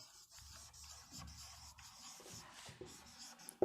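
Pen scratching on paper as numbers are written by hand, a soft, continuous rubbing with small irregular strokes, close and quiet, ending in a sharper tap.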